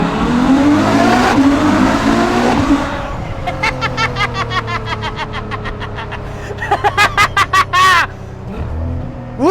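Ferrari F12 Berlinetta V12 engine revving hard with a rapid series of gear shifts, loud and close, rising pitch sweeps broken by sharp shift cuts, with excited voices and laughter over the start.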